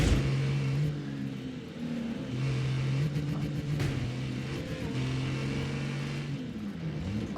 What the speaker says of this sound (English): there's a racing truck in there.